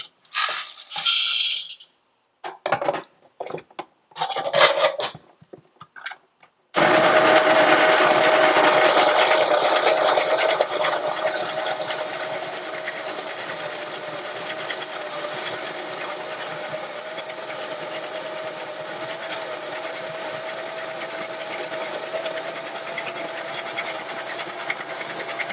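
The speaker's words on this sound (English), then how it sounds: "Got our coffee ground." A coffee grinder grinds beans for pour-over coffee, a close, steady whirring drone that continues for about twenty seconds after some brief clattering and handling sounds at the start.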